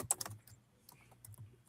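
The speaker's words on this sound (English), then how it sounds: "I missed it. I was typing." Short burst of computer keyboard typing, a quick run of close, soft key clicks with no voices.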